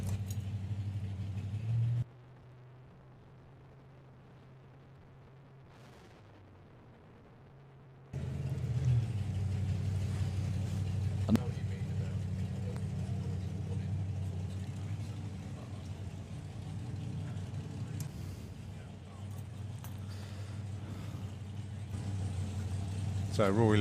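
Phil James's funny car 'Rampage' at Dragstalgia drag racing: a deep, steady engine rumble at idle that drops out briefly, then returns with a broad, rough roar.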